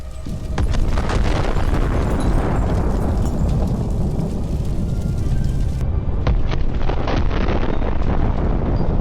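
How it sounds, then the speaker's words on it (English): A powerful explosion of a tank struck by an FPV drone: a loud, sustained roar of blasting and rumbling, dense and booming throughout, with sharp bursts cutting through a heavy low-end wall of sound. "A powerful explosion."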